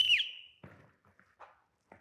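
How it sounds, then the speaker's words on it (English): A whistle blown to start a combine drill at security tryouts gives one short, sharp blast at the start, followed by scattered soft thuds and shuffling. "On my whistle."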